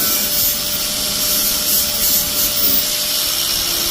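A sanding disc grinds on the metal of an Oldsmobile S-10 truck bed, cleaning and burnishing it with a continuous harsh, steady rasp that stays loud and close, with no pauses and no talking.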